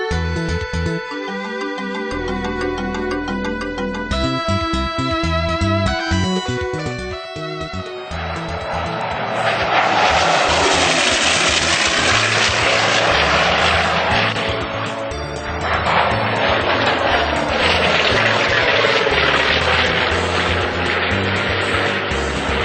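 A Corsair propeller warplane at an air show, a loud droning engine whose pitch sweeps down and up as it makes passes, layered over music at first, swelling to a strong roar twice.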